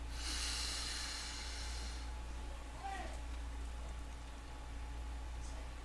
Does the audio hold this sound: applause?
no